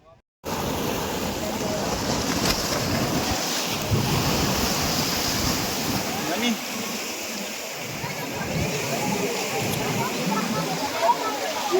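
Sea waves at a bathing ghat in Dwarka, Gujarat, wash and break in a steady surging roar mixed with wind, continuous and fairly close.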